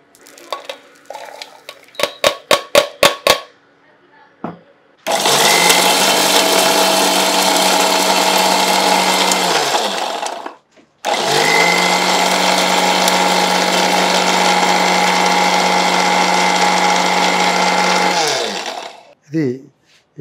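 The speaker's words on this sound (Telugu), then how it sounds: "మిక్సీ జార్ వేసుకొని" Mixer grinder grinding roasted walnuts and almonds into powder, a loud whining motor roar in two long bursts with a short pause between, preceded by rattling clicks as the jar is set.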